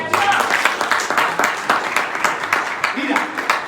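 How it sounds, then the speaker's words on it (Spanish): Congregation at a Spanish-language church service clapping for God, a dense crackle of many hands with sharp accents throughout, fairly loud and steady, with voices mixed in. "Dale un aplauso a Dios"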